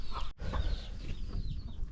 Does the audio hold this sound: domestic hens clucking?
yes